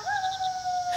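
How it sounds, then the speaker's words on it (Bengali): A lone jackal howls far off in a dark forest at night, one long wavering wail drifting over faint insect noise. "কোথাও দূরে যেন শিয়ালের হুক্কা হুয়া ডাক"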